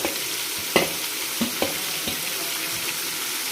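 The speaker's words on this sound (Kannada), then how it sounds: "ಚೆನ್ನಾಗಿ ಎಣ್ಣೆನಲ್ಲಿ ಫ್ರೈ ಆಗಬೇಕು" Brinjal, carrot and beans fry in oil for a vegetable pulao with a soft, steady sizzle, broken by several sharp spatula clicks and stirring knocks.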